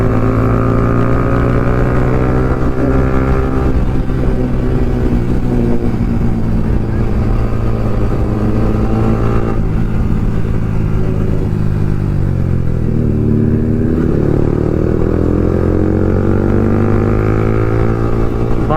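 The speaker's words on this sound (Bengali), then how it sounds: "ভাই ইনলাইন বোর্ডের সঙ্গে টান হচ্ছে ভাই, ড্রাগ রেস হচ্ছে, সুপার বাইকের সঙ্গে ড্রাগ রেস গাইস।" Superbikes, including a Kawasaki Ninja ZX10R, race side by side in a road drag race. Their engines drone loudly and steadily close by, with layered revving that sweeps up and down in pitch throughout.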